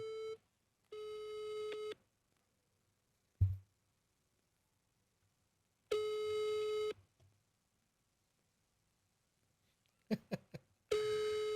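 Outgoing telephone call in France: repeated ringback tones, each a steady buzzing tone about a second long, separated by silent gaps, with a brief thump between rings.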